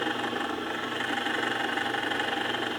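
A restored electric motor running with a loose switch rattling, a steady close mechanical hum overlaid by a fine, continuous buzzy rattle throughout.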